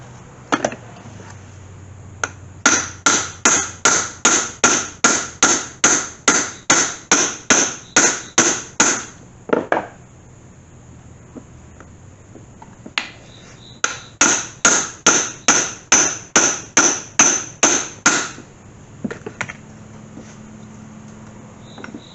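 A hammer drives a drift on the aluminum case of a C3 Corvette Sting Ray transmission. Two long runs of rapid, evenly spaced metallic blows ring sharply, separated by a quiet gap with a few scattered taps. The blows are loud and close, with no talking.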